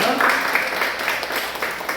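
A congregation claps in thanks during a church worship service, a short burst of crowd clapping with some voices mixed in.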